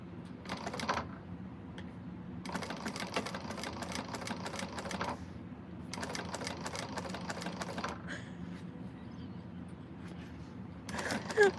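A sewing machine stitches a Zodiac Group Selma bag in several fast, steady bursts separated by short pauses, fairly close and alone.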